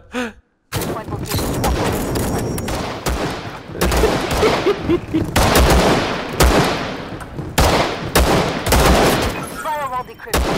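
Sustained video game gunfire, dense overlapping bursts and volleys of rapid shots that keep going for several seconds, loud and close, with gasps and voices mixed in among the shooting.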